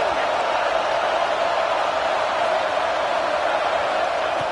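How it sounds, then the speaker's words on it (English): A football stadium crowd roars steadily as the defense tries for a red zone stop on third and goal, a loud, dense wall of noise that holds without a break. "here comes the noise. This crowd is trying to inspire this defense to make a big red zone stop."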